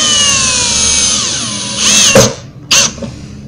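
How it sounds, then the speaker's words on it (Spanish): Cordless screwdriver fitted with a screwdriving bit, turning screws into melamine for telescopic drawer slides: a steady whirring drive that drops away, then two short, loud bursts as further screws are driven home, with no talk. "utilizando una broca para atornillar, coloco mi destornillador inalámbrico en la posición adecuada que no haga demasiada fuerza"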